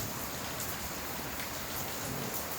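Rain falls steadily outdoors, an even, continuous patter and hiss of drops on surfaces, soft and unbroken throughout with no voices present.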